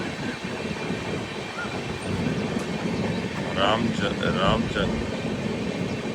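Steady rumble and hum inside the first AC coach of the Trivandrum–Jammu Rajdhani Express as it rolls through a station, with constant rail noise and air-conditioning drone and a brief voice over it.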